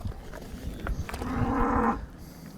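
A cow lets out one loud drawn-out moo close by, rising over quiet outdoor background noise.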